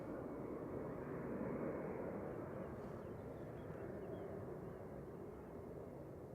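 Lufthansa CityLine Airbus A319 taking off from Manchester bound for Munich, a faint, distant, even jet rumble that holds steady throughout.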